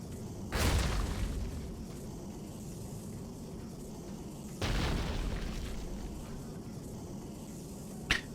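Oil derricks struck in a real-time strategy video game match, two heavy booming explosions a few seconds apart, each decaying into a low rumble over quiet background, followed by a brief sharp pop near the end.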